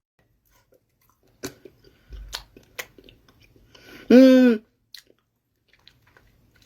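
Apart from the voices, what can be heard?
chewing food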